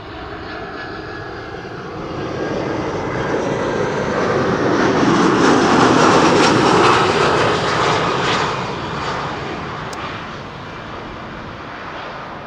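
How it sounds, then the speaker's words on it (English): An EasyJet Airbus A320 arrives from Birmingham with a broad jet roar that swells to a loud peak at mid-clip and then eases off, continuous and without talk. "EasyJet A320 arriving from Birmingham."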